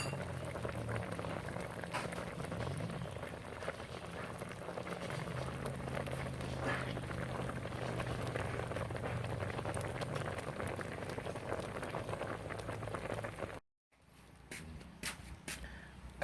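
Pork leg stewing with Chinese medicinal herbs in a pot, a continuous soft bubbling boil with a faint low hum underneath, briefly cut out and then resuming more quietly.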